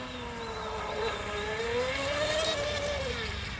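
A Pro Boat Stealthwake RC boat on a 3-cell battery runs across the water with a high electric motor whine that climbs and eases in pitch, steady and at mid distance.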